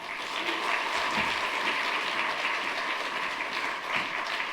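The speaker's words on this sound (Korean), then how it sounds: "우리 박수로 환영하겠습니다" A church congregation at a Sunday service applauds to welcome the pastor, a dense, sustained crowd of clapping hands heard from within the hall, fairly even throughout with no speech.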